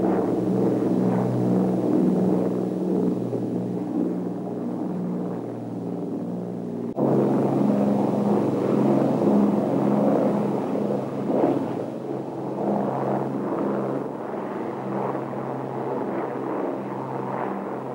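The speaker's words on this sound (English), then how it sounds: "The sound of 4 Merlins is something you wish" Four Rolls-Royce Merlin piston engines run on an aircraft, a steady, loud, deep droning roar with a layered harmonic throb, briefly dipping then surging back in power midway and holding for the rest.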